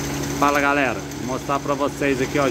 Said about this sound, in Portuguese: O barulho que você tá ouvindo é proveniente da bomba d'água do motor